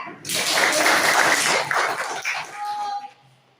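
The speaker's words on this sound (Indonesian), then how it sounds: "Tepuk tangan untuk Mbak Eja." A classroom group bursts into brief, lively clapping for a presenter during a teaching assessment session, loud and dense, then fading out within a few seconds while voices mingle in.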